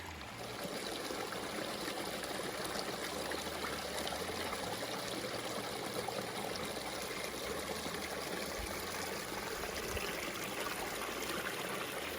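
Water trickles and babbles steadily in a small stream on a trail in the San Jacinto Wilderness, a constant close rushing sound with no voices.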